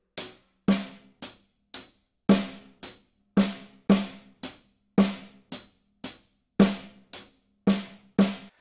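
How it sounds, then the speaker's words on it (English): Drum kit paradiddle groove, right hand on the hi-hat and left hand on the snare, played alone as a steady run of sharp, close hits with accented strokes in a repeating sticking pattern. "we're going to take the right hand and we're going to put it on the hi-hat"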